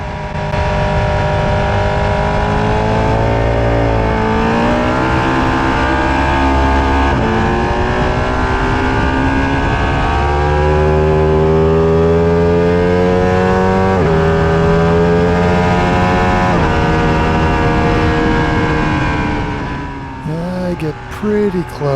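A sport motorcycle tears around Palmer Motorsports Park on a Labor Day track day, its engine screaming loud and close as it revs up and drops through the gears in long sustained pulls.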